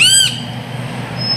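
A sparrow's short, sweet call with falling notes opens the recording, then gives way to a quiet, steady ambient hush under lockdown calm.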